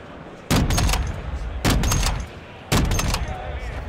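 Marksman rifle and sniper fire in Call of Duty Modern Warfare II: three loud, close rifle shots spaced about a second apart, each with a sharp crack and a short rolling echo, no talk in between.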